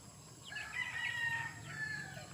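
A Rhode Island Red rooster crows in a single drawn-out call lasting about a second, moderately loud over a low, steady background hum, with a fainter second crow trailing off toward the end.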